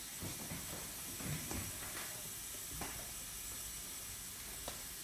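A steam sterilizer for tattoo equipment in a tattoo studio gives off a steady, even hiss that fills the room, with a few faint knocks and clatters over it.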